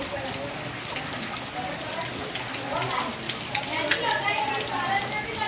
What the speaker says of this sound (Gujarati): બહાર ચાલુ થઈ ગયું છે ધોધમાર વરસાદ.